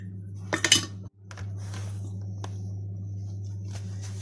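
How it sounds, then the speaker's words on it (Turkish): Yeast and water are stirred in a bowl, with a few sharp clinks of a spoon against the dish at first, then quieter scraping over a steady low hum. "Bu şekilde karıştırıyorum."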